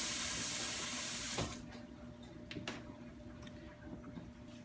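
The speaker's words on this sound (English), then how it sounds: "we'll rinse it underneath cold water." Cold tap water runs loudly over a Mora knife for just over a second, then cuts off, leaving a few faint clicks and drips in a quieter room.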